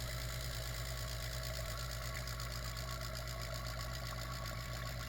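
Continuous mechanical hum and rattle of a vacuum pump degassing mixed silicone for resin molds, steady and fairly loud throughout with no voices.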